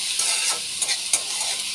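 Onion frying in a curry-leaf tempering for jhunka bhurji, a steady close sizzle with a few brief stirring scrapes and no voices over it.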